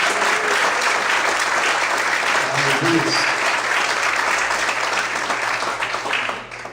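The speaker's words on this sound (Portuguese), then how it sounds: "Você pode aplaudir o Senhor mais forte?" A church congregation bursts into loud, sustained applause praising the Lord, dense clapping filling the room without pause before tapering off at the very end.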